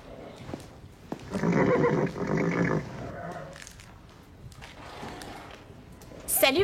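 A cartoon horse named Comanche gives a bright, drawn-out whinny lasting a couple of seconds, with short bursts of voices and busy background sound before and after it.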